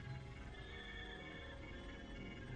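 An eight-legged horse in the video game Star Trek Online gives a faint, drawn-out whinny with a wavering tone, set against a steady game soundscape and no speech.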